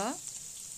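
Minced garlic and finely chopped ginger sizzle in hot oil while being stirred for a dhaba-style palak paneer, a short burst of steady frying with a faint voice trace at the very start.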